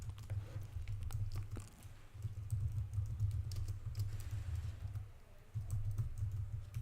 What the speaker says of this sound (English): I can get that item by typing this